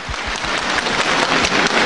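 Warm applause from a theatre audience at a 1994 Shanghai Yue opera gala, greeting veteran opera artists; a dense, even burst of clapping that carries through without pause.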